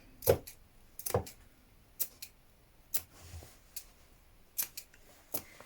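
Scissors snip through fabric beside a stitched 1 cm seam, a series of sharp, close cuts spaced about a second apart with quiet pauses between them.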